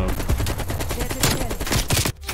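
Rapid automatic gunfire from Call of Duty: Cold War in a Hardpoint match, with dense overlapping shots in quick bursts, loud and close, cut off abruptly near the end.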